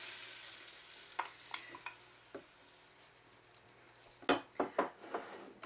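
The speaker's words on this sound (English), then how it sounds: "I'm going to put our tomato in" Chopped tomato goes into a sizzling 1899 Sternau chafing dish, bringing a faint steady frying hiss with several sharp stirring scrapes and clinks, loudest toward the end.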